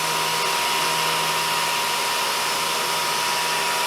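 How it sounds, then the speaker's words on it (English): A mist coolant sprayer on a CNC mill hisses steadily while machining aluminum parts, a loud continuous broadband spray with a low machine hum underneath and no talking. "I've also got the mist coolant on a toggle switch for those times when I just want to leave it on"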